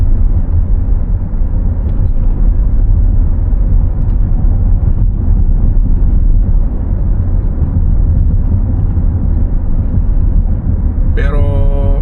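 A car drives through American city traffic on an evening food-delivery run, producing a steady, close road and engine rumble throughout, with a short rising tonal chime near the end.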